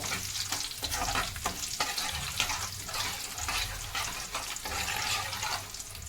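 Dried red chillies and curry leaves frying in oil, a continuous busy sizzle and crackle with occasional stirring scrapes, moderately close and steady throughout.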